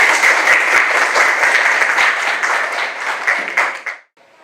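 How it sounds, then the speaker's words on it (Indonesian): A class applauds a student named Ajeng during a genetics lesson, a loud, dense burst of many hands clapping that holds steady and then cuts off abruptly near the end. "tepuk tangan untuk Ajeng dulu"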